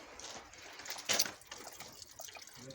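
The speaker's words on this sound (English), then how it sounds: "there's all the coolant pouring out" Engine coolant pours and splatters out of the thermostat housing of a 1997-01 Toyota Camry 2.2, a faint trickling with one brief louder gush near the middle.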